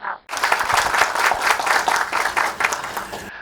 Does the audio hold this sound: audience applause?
yes